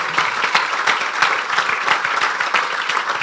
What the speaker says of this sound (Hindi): जोरदार तालियां खुदा की